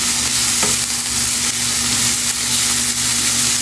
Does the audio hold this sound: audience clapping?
no